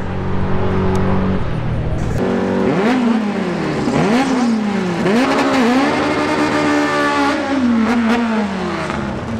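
Drag-racing cars, a Camaro against a Civic, launch at Atco Dragway during an import versus domestic 11.50 index elimination. Loud engine revs rise and fall in repeated surges, roaring continuously close by.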